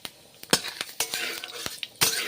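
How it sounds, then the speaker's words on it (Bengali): Mushrooms frying in a pan, with sharp utensil clinks and scrapes of stirring, several loud knocks spaced irregularly over a faint background sizzle. "এখন মাশরুমগুলো ভেজে নিচ্ছি"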